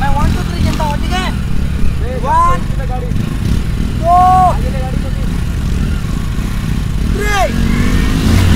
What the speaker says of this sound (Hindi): भाई बाइक स्टार्ट कर देना तुम भी।